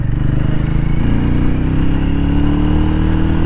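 Hero Mavrick 440 motorcycle on a road test ride, its engine droning loudly and steadily up close as it pulls along, pitch rising slightly as it accelerates.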